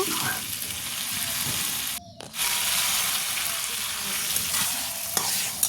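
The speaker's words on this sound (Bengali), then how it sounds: "হাঁসের মাংসটা দিয়ে সুন্দর করে ভালোভাবে আমি নেড়ে মশলাটা মিশিয়ে" Duck meat stirred in a pan as it fries with spices for a home-cooked duck curry, a steady close sizzle with scraping stirs and a brief lid or utensil clatter partway through.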